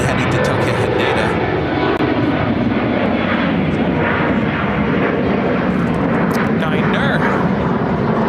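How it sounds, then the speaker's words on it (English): A Japan Airlines Boeing 777 departs Chicago O'Hare for Tokyo Haneda, a loud continuous jet engine roar filling the clip while a voice speaks briefly over it. "Japan 777. Flight 9 heading to Tokyo Haneda."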